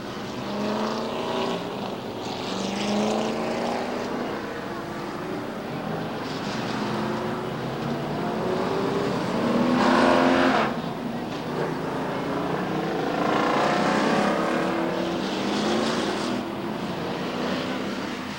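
Late model race cars in a 25-lap feature at Lee USA Speedway roar around the oval, a dense, loud engine drone with passing cars swelling and fading continuously throughout.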